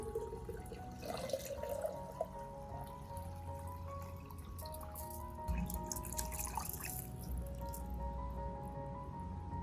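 Rice water poured gently onto the base of an orchid, with soft trickling and dripping that stays faint and continuous.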